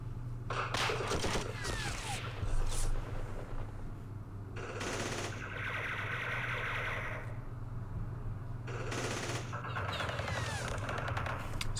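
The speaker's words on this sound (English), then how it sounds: "That's that sniper still firing at me." Gunfire in a Vietnam War game, Campaign Series Vietnam, fills the scene with several separate bursts of sharp crackling shots spread over a low, continuous rumble, mid-distance and moderately loud.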